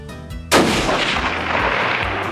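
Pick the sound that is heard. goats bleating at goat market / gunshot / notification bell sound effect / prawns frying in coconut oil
gunshot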